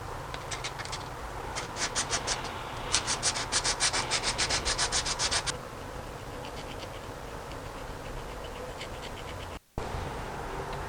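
Dry, rhythmic scratchy rubbing of a sanding stick in quick bursts of strokes, close by, then fading to softer intermittent scraping.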